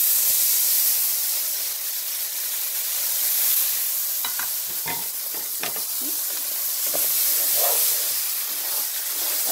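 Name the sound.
tomato sauce sizzling as added to Spanish rice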